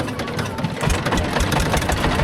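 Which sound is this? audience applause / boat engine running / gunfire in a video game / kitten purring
boat engine running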